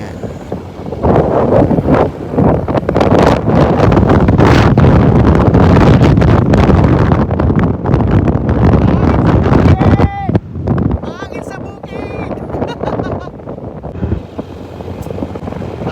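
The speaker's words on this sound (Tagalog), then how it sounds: "Sobrang hangin sa labas. Totoo nga, sobrang mahangin." Strong wind buffets the microphone in a continuous loud roar, with a few faint tones and voices breaking through near the end.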